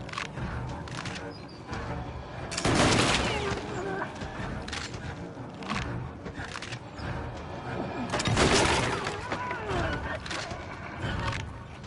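Bursts of gunfire from a soldier shooting at children in the video game Little Nightmares 2, loud repeated blasts among game noise, with someone talking over much of it.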